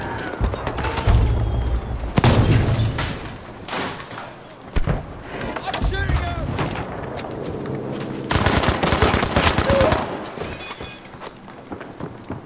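MP40 submachine gun fired from the hip in Battlefield V, with several bursts of rapid fire broken by pauses amid other game noise, loud and close.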